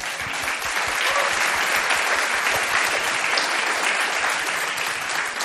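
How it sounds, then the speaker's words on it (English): An audience at a convention applauds, steady dense clapping that fills the room and holds evenly throughout without voices. "Let's give him another round of applause."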